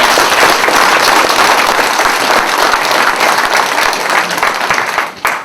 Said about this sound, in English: the fact people were clapping